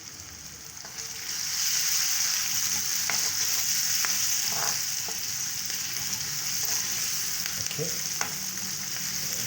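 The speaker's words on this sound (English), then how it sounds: "just to soften the onions and the pilipili hoho. You stir it together" Onions and chili frying in a pot for carrot soup, a steady close sizzle with scattered scraping clicks from a stirring spoon; a voice briefly says a word.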